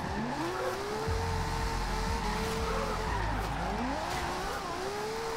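A Nissan 370Z drifts in Forza Horizon 2, its engine revving hard while the tires squeal in long, wavering skids that rise and fall continuously.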